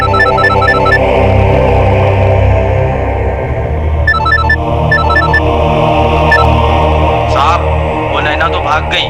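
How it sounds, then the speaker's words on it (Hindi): A telephone rings in short repeated electronic bursts during a tense indoor crime drama scene, sounding over a steady background bed with brief gaps between rings. "आपका फोन बज रहा है"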